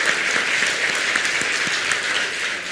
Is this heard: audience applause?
yes